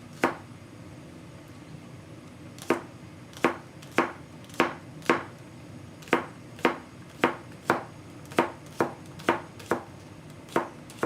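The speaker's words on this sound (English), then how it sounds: "I'm going to cut while I have the cutting board out" Big green onions chopped with a knife on a cutting board, about seventeen crisp, evenly spaced knocks after a quiet start, close and clear with no talk.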